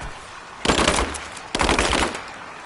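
Automatic gunfire during a firefight in Rise of the Tomb Raider: two loud, close bursts of rapid shots, each under a second long, with a short pause between them.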